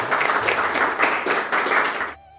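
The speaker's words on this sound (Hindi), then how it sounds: "इन दीदी के लिए हम सभी लोग ताली बजाएंगे" A group claps for a woman, a dense close burst of applause with a few rhythmic swells that stops abruptly after about two seconds.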